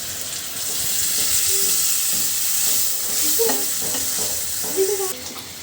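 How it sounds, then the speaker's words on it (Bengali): Beef frying in a pan as spices go in, a steady loud sizzle and hiss with a few scraping stir strokes close by near the end, no talking. "তো এখন মশলাগুলো দিয়ে দিচ্ছি।"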